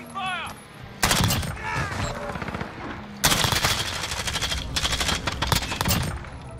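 Rapid automatic gunfire from the Modern Warfare video game rattles in loud sustained bursts, with a voice talking briefly at the start and in the gaps.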